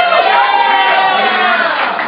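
Dense, steady audience applause mixed with cheering, loud and continuous throughout with no pauses.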